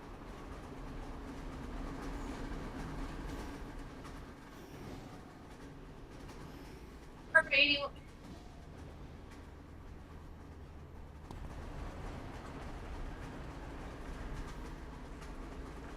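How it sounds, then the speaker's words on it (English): A train in the City of Heroes video game passes as a steady low rumble that fills the whole stretch, with a brief sharp metallic burst midway, and no one talking over it. "Oh, there's the train."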